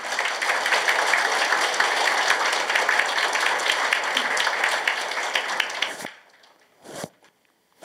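Sustained, dense applause fills a district office staff meeting in Korea in congratulation of a newly elected district mayor, loud and continuous for about six seconds, then cuts off to near silence with a few faint handling sounds.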